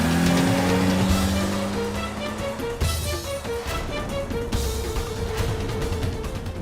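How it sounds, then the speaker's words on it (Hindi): A car engine roars steadily at speed, loud and continuous, with a brief rising rev partway through and a dense road-noise rumble underneath. "गाड़ी तेज चलाओ। जल्दी जल्दी, और तेज चलाओ।"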